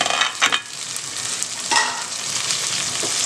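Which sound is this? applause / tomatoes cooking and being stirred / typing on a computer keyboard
tomatoes cooking and being stirred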